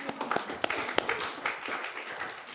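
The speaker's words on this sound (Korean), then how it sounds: "박수 한번 쳐주세요." A church congregation claps during a Sunday sermon, a burst of scattered hand claps with a few sharp louder claps, moderately near and fairly quiet, with a voice faintly under it.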